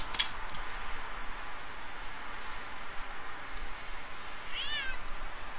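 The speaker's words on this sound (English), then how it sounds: "Hello, Mr. Kitty." A cat meows once faintly in a zombie survival video game, a brief distant cry over a steady hiss of background noise, with no talking.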